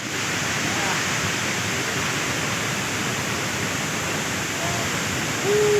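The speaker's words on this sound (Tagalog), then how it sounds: "Welcome, 7 Falls." Seven Falls waterfall roaring as a constant, dense rush of falling water, loud and unbroken for the whole stretch, swelling slightly at the very end.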